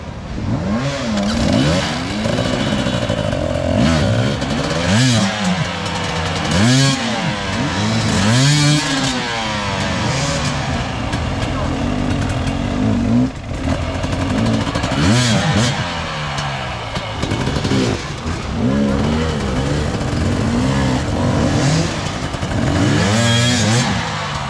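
Several enduro motorcycles revving hard during an Enduraid 2022 race on a hill climb, loud repeated rising and falling engine whines and throttle blips, overlapping and close throughout.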